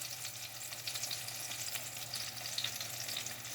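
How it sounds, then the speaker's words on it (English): Homemade apple fritters frying in oil, a steady soft sizzle with small crackles and a low hum underneath, fairly quiet and unbroken with no speech. "just try to flatten them down a little bit, just a little bit, so they'll cook through real good"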